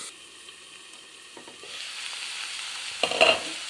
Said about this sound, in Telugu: ఇది కొంచెం తోటకూర వేగాలి.